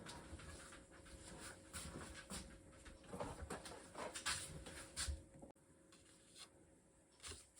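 A small puppy pants softly and quickly at close range in a quiet room, with faint rustling and a brief whimper.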